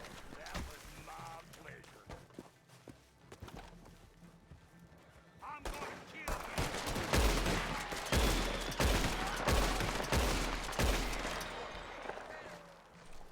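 Gunshots in RedM Western roleplay, scattered sharp reports at first, then a heavier flurry of loud shots and echoes, with hoofbeats and voices talking over the action.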